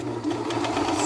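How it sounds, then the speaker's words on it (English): A serger-style sewing machine runs steadily through fabric for a single brief, continuous burst, close and fairly loud, with no voices. "Lower the presser foot and sew."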